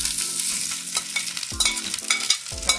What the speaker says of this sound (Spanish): Como ya se calentó el aceite un poco, vamos a agregarle la chuleta